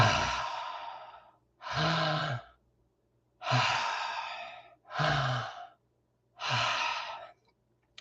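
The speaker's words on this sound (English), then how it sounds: "That was 3 deep breaths" Five long deep breaths drawn in and released, alternating inhales and sighing exhales separated by short silences, close and clear with a faint background hum.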